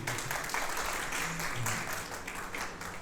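A school audience applauds after a guest speaker's offer, a continuous roomy clatter of many clapping hands at moderate loudness with a faint murmur underneath.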